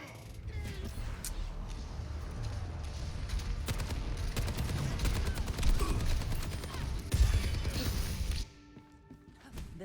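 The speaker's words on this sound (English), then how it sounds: "Three people shooting at us" Sustained rapid gunfire from several players in an Overwatch match, dense overlapping shots and impacts with loud bursts, then cutting off abruptly into quieter game sounds; a voice talks over the action.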